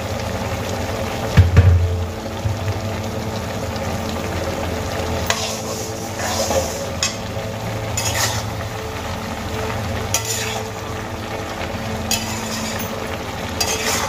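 Malabar spinach cooking with a hilsa fish head in an uncovered pan, heard as a steady close sizzle with repeated scraping stirs over about fourteen seconds.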